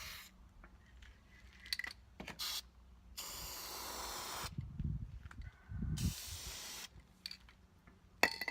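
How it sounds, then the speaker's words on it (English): Spray paint hisses from an aerosol can onto a DIY Jason-style mask, heard as a few close, moderate bursts of airy spray separated by quiet pauses and small handling clicks. "Oh wait, it needs more spray paint."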